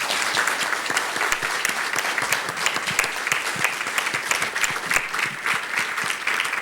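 An audience applauds at a book launch at the Museo de la Memoria y los Derechos Humanos, with steady, close, moderately loud clapping from a small crowd that continues throughout.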